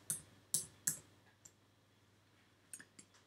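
Keystrokes on a computer keyboard, three sharp close clicks in quick succession, then a few fainter taps after a short pause, in a quiet room.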